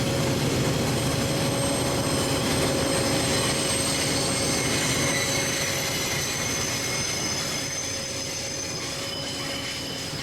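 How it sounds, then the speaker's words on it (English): A CP Rail train rolling through a rail yard at North Fond du Lac, with a continuous heavy rumble and steady high wheel squeal that hold throughout and ease off slightly toward the end. "The CP rail will be coming into North Fond du Lac."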